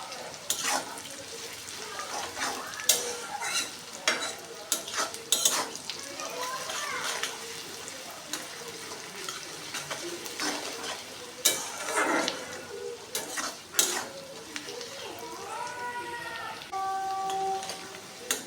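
Onions softened with a little salt frying in a pan for egg tarka, a low sizzle with intermittent scraping and stirring clatters, a voice talking now and then over the cooking.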